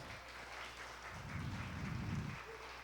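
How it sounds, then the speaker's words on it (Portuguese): A church congregation gives a faint round of applause after a baptism, a soft smattering of claps that swells in the middle and fades, distant and low in level. "Pode dar uma salva de palmas?"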